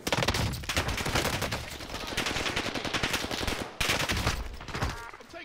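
Sustained rapid automatic gunfire from a PPSh-41 submachine gun in Call of Duty Vanguard Warzone, loud and dense bursts running nearly the whole time with a brief break near the end, no talk over it.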